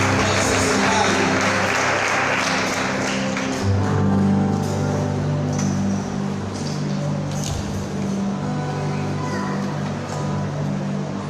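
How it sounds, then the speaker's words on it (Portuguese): A church congregation claps loudly and steadily from start to finish, the applause a dense, roomy wash, with a voice speaking over it at times. "aplauda o Senhor em nome de Jesus"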